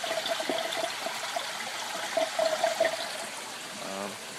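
Water trickles and gurgles as it fills and drains through an aquaponics grow bed, a steady close splashing flow with brief bubbling surges.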